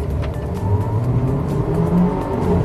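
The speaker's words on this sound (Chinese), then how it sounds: "挂到 D 档，启动这个弹射模式" A WEY Mocha with a dual-clutch gearbox launches in launch mode, its engine note rising steadily in a loud, close roar heard from inside the car without talk.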